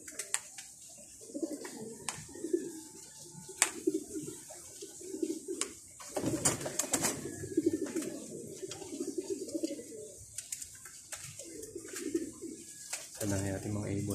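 Pigeons in a pigeon loft coo in repeated low, throaty rolling phrases, close and clear, with scattered clicks and wing or perch knocks between them.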